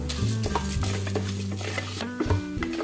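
Black pepper and fenugreek roasting in a pan for Aadi Perukku rice dishes, stirred steadily with a spoon scraping the metal over a soft, continuous sizzle, close and alone without any voices.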